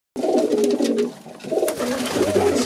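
Racing pigeons coo in a pigeon loft, several soft, repeated throaty calls overlapping close by, with a brief dip midway before the cooing resumes.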